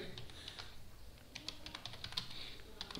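Quick clicks of typing on a computer keyboard while C code is entered, a close, irregular run of light keystrokes ending in a louder tap.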